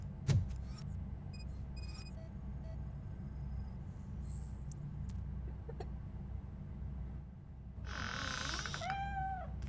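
A cat meows in a video game, giving a drawn-out, wavering cry near the end over a steady low ambient hum, with scattered soft clicks and tones earlier.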